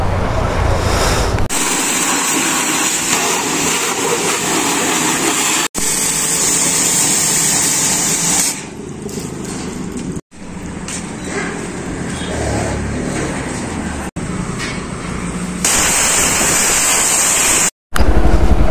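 A high-pressure water wash hisses onto a Pulsar NS160 motorcycle on its centre stand, a loud steady spray that cuts off and restarts several times in short bursts.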